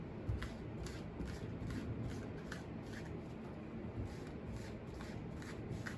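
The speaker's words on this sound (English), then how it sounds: "The card to the left slides over the right." Tarot or playing cards slide across one another and get handled, a soft steady papery shuffle that continues quietly and close throughout without a break.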